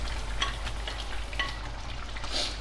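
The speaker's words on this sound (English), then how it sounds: "So first, I'm going to toss in my carrots." Carrots tossed into a pot of simmering chicken curry sauce, giving a soft sizzle and a few light splashes and clatters over a steady low hum, with no talking.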